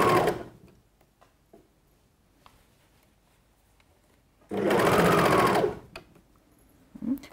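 A sewing machine stitching swimsuit fabric, two bursts of rapid mechanical whirring, a short one at the start and a longer steady run later, separated by quiet handling clicks.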